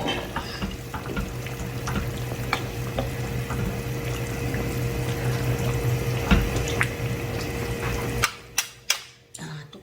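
A pot of gochujang stew with tofu bubbles and simmers steadily at close range, with a few sharp clinks and knocks of a lid or utensil near the end.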